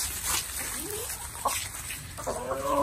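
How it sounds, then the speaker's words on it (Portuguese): Laying hens in a henhouse give scattered, moderately close clucks and calls over a noisy farmyard background. Faint voices are also heard. "O som das galinhas"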